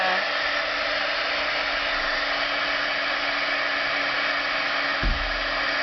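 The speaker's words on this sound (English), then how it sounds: "heat it up till the image is melted, the embossing powder is melted." A heat gun melts embossing powder on a stamped snowflake image, giving a steady loud blowing whir with no speech.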